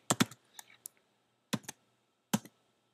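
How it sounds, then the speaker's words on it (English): Sparse, close keystrokes on a computer keyboard come in short bursts of two or three quick clicks separated by pauses, quiet and without talk. "then you can just start typing here"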